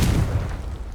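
A Confringo blasting spell explodes in Hogwarts Legacy, a loud, dense low boom that rumbles steadily through the whole short moment without fading, with no voices over it.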